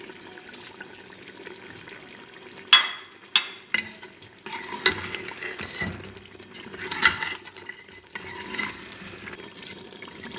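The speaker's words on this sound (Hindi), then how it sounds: "इसमें अब हम मसाले शामिल करेंगे और इसको 1 मिनट हिलाएंगे" A spoon stirs spices into cooked mutton in a pot, giving faint sizzling under a series of sharp scraping and clattering strokes, close by and irregular.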